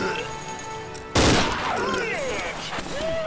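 Gunfire at a shooting range in the video game UT2004, a sudden loud burst of shots that continues into a sustained roar of weapon fire and effects, close and dense.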